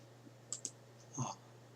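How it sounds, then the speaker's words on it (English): Computer mouse clicks while browsing an eBay page, heard as a couple of faint, sharp clicks close together, then a slightly fuller click a moment later, in a quiet room. "let me click on the entertainment"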